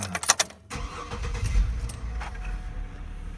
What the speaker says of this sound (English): So now, when you start the car,